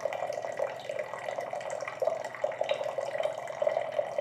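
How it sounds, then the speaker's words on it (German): Steady low hum of a reverse osmosis water filter with water rushing and trickling through it, continuous and fairly quiet, no voices. "dass das Gerät anfängt zu brummen"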